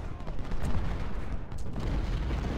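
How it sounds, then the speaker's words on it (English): In the video game Ultimate General: Civil War, a Confederate advance at Gettysburg brings dense, continuous rumbling artillery and musket fire, with volleys overlapping in a low roar and a few sharper cracks breaking through. "Caliph firing down on Davis"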